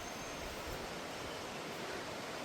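Rushing water from waterfalls near a forested ancestral village with cardamom groves, a steady broadband roar heard faint and distant, unbroken and without voices.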